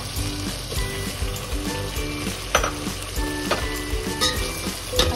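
Potatoes sizzle and fry in hot oil in a pan for vegetable biryani, a continuous close crackle with occasional stirring clatters and small spits.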